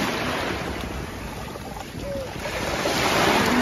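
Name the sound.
sea waves on the shore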